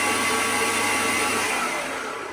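An electric mixer whirs steadily through a chocolate, coffee and almond cake batter, a close, even motor drone that fades slightly toward the end, with no talking.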